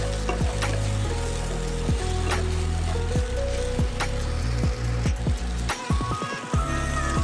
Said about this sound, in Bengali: পটলটাকে খুব ভালো করে ভেজে নেব।